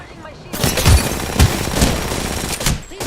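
Bursts of automatic gunfire in a shooter video game, sharp rattling volleys and thumps coming in several clusters, loud, with a voice briefly talking alongside.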